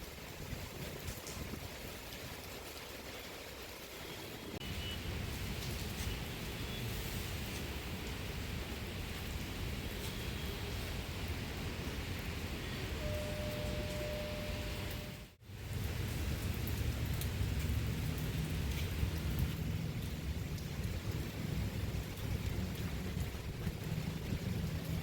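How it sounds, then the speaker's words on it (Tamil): Steady rain pours down continuously, a dense even wash of drops close by and loud throughout, with a brief dip mid-way and low rumbling that may be distant thunder; no one speaks. "மழை வந்து இன்னும் நிற்கலை"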